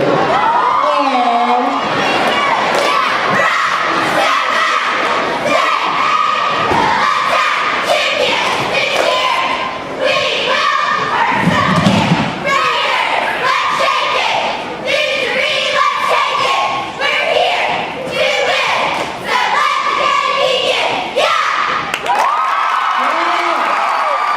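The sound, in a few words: cheerleaders performing the seniors' last cheer at a pep rally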